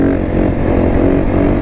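A supermoto motorcycle engine revs hard and close in a short continuous burst, a dense throaty drone without pause.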